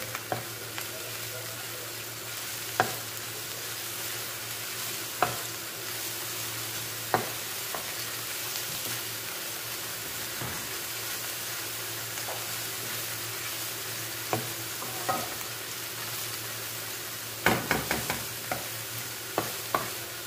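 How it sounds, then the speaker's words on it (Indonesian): Celery leaves stir-fry in a hot pan, a steady broad sizzle running throughout with occasional clacks of a spatula against the pan, close and even, no voices. "Kita oseng sampai matang."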